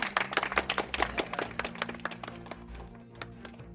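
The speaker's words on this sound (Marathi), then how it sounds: "टाळ्या" Brief burst of hand clapping from a small group at a school alumni reunion, rapid and uneven, loudest at the start and thinning out to scattered claps within a few seconds, with no talking over it.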